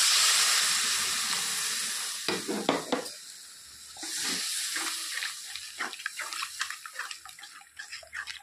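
Water poured into a pan of fried, sizzling egg curry masala sets off a loud hiss that fades, followed by scraping stirring and bubbling as the gravy thickens.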